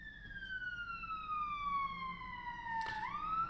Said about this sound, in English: there's a lot of police cars going down my road today